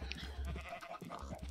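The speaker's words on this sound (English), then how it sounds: "Cute little baby cow." Minecraft baby cow lowing in a farm pen, a few short bleating calls repeating close by over a steady game backdrop.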